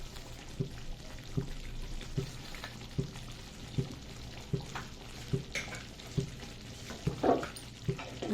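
Mughlai egg curry with kasuri methi and garam masala simmers in a pan with a soft, continuous bubbling and sizzle, broken by faint regular taps and a brief stir near the end, no talk.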